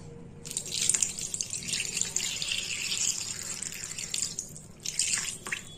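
Water pours steadily into a pan holding two hilsa fish for jol ilish, a close, continuous splashing stream that breaks off briefly and then resumes.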